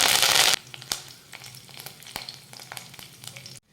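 Curry leaves dropped into hot oil over golden fried garlic for a tempering burst into a loud sizzle, then settle into an irregular crackle and spit that stops abruptly.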